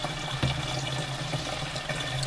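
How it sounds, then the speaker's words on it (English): Spring water pours steadily by a roadside near a dispersed campsite, a close, continuous splashing and gurgling stream with light outdoor background noise. "I'm just filling up some spring water."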